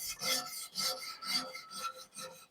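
Rhythmic rasping strokes come from rubbing and scrubbing kamado grill heat deflectors clean, a close and steady back-and-forth with about six scrapes and no voices.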